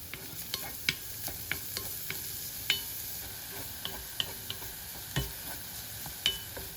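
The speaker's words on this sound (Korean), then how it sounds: "올리브유 두른 팬에 호박 먼저 볶아요." Chopped zucchini stir-fried in olive oil in a pan: a low, steady sizzle broken by sharp spatula clicks and scrapes against the pan at an irregular pace, close by with no voices.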